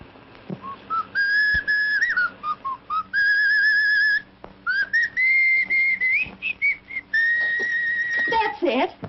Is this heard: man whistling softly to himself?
yes